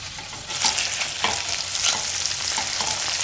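Food sizzles steadily in a pan, a loud close crackle with occasional sharper pops and spatters, made while camping overnight in a parking lot.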